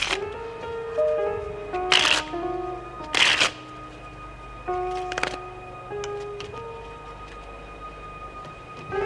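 A deck of playing cards is handled and shuffled in a few quick riffling bursts between pauses, while background music with sustained tones plays throughout.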